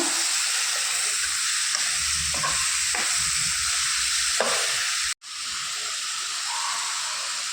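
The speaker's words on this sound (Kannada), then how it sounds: "ಇದಕ್ಕೆ ಈಗ ಪ್ರಾನ್ಸನ್ನು ಹಾಕುವ. ಸ್ವಲ್ಪ ಫ್ರೈ ಆಗಬೇಕು." Prawns frying in a pan for prawn biryani, a steady loud sizzle and hiss with several scraping stirs, then a brief cutout before the sizzling resumes.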